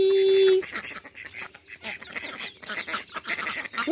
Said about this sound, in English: Where's my duck? Where's my duckies?